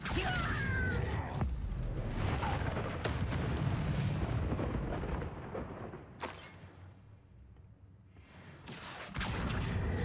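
Spell effects in the Hogwarts Legacy game burst out as a series of loud booming, whooshing blasts and crackling impacts, separated by brief quieter gaps.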